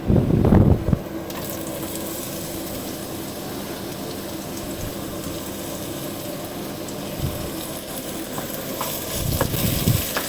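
Onion, garlic and ginger fry in a home kitchen pan, giving a continuous sizzle with a few louder clattering stirs at the start and end, close and without speech.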